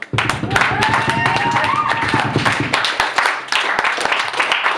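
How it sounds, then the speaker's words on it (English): A crowd claps and cheers loudly, with dense overlapping hand claps throughout and voices mixed in. "Please, give a round of applause for the Holland Project."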